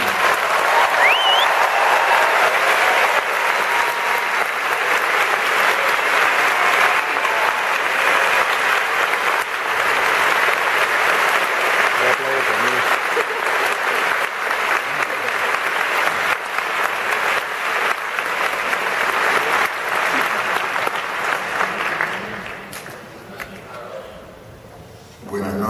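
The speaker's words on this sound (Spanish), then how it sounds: "Demos la bienvenida con un aplauso al escritor Eduardo Galeano." Sustained loud audience applause fills a concert hall at UNAM, welcoming writer Eduardo Galeano, steady clapping from a large crowd that fades away near the end.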